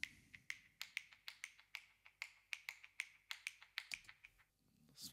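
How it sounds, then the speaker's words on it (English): Crisp finger snaps bouncing left and right with a delay effect, a quick steady rhythm of sharp clicks, each trailed by softer echoes, ending in a brief gap. "Snap left and right, which I put a little bit of a delay on."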